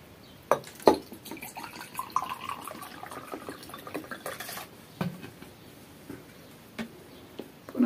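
Vinegar is poured into tea glasses, half a glass each, as a few short splashing pours with light glass clinks and drips, close and fairly quiet with gaps between.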